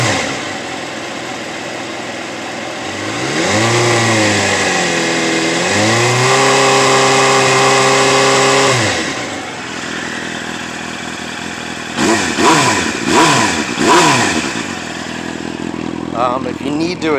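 A 2000 Suzuki GSX-R motorcycle engine idles steadily, then revs up twice in sustained rising and falling sweeps, followed by a few sharp quick blips near the end, all close and loud with no talking.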